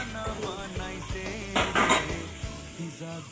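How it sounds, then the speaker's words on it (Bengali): A pan lid lifted off eggplant frying in oil, with metallic clinks and a louder clatter of the lid against the pan, close and alone over a faint background. "এবার ঢাকনাটা উঠিয়ে"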